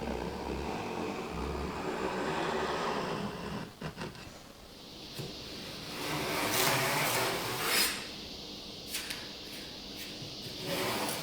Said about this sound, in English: I'm going to use my veneer saw riding up against the edge of the Baltic birch to cut it to length